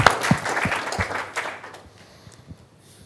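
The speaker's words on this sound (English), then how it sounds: "Let's have a round of applause this table and on to the next table." Applause from a conference audience, a brisk burst of clapping that thins out to a few scattered claps and fades within a few seconds.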